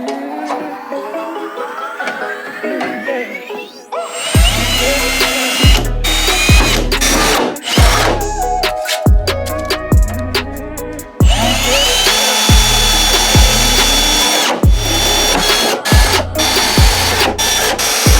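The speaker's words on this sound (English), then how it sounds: "Our first panel is drilled out." Power drill boring out a panel on a C6 Corvette firewall, loud close whine in repeated pulses of drilling with short pauses and clicks between, continuing for many seconds.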